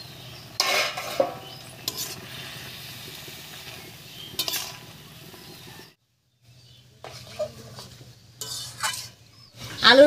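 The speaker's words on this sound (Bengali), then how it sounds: "আলুর উপরে শাকটা দিয়ে একটু নাড়িয়ে নিয়েছি।" Pumpkin greens being stirred over boiled potatoes in a cooking pot: scattered scraping and clinking of a utensil against the metal pot over a faint simmer, with a brief pause of near silence midway and no speech.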